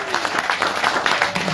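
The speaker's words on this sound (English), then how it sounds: "please give a hearty round of applause to our lovely pianist" An audience claps for the pianist Margaret Ennis at a writers and poets book launch in Doubtless Bay. The applause is steady and fairly loud, with some crowd noise mixed in.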